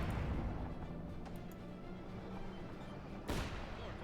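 Heavy mortar barrages in the Company of Heroes 2 video game roar as dense, continuous rumbling explosions, with a sharper blast near the end and no voices.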